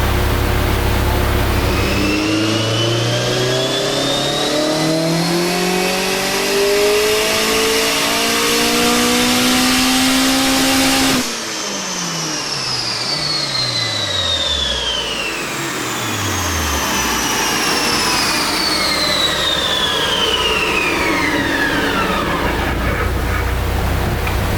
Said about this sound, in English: I'm gonna go full throttle a little earlier this time because that wasn't, and I'm also gonna rev out a bit higher.